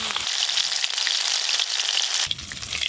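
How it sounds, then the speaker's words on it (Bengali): Bhola and khoira river fish fry in hot oil with a dense, close, continuous sizzle and scattered pops, a brief low rumble under it near the start and the end. "সব মাছগুলো একটু লাল লাল করে ভেজে নিয়েছি"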